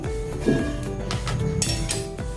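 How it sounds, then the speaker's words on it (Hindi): Milk and cream mixed together in a bowl for coconut laddu, with a spoon scraping and clinking against the vessel in a steady, close stirring rhythm. "अच्छे से मिक्स कर लेंगे"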